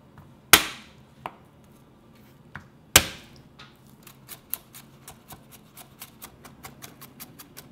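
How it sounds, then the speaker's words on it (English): A knife chops green onion on a cutting board: a few loud, spaced chops, then a quick even run of lighter close taps, with no voices. "One green onion. Chop it up."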